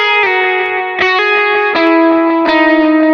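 An electric guitar run through a Line 6 Helix dual delay effect, playing sustained single notes that repeat with clear echoed delay trails and a wet, slightly distorted lead tone, played alone with no talking.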